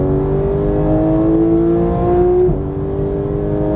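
Porsche GT3 accelerating hard on a race track, its engine note climbing steadily for over two seconds, dipping briefly at a gear change, then pulling again, loud and close from inside the car.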